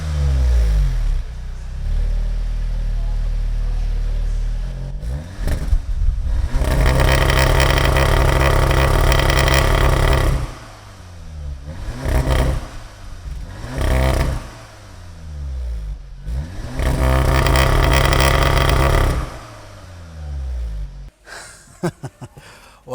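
An Audi S3 engine revs hard in repeated bursts, roaring up loudly then easing off between pulls, with no talking.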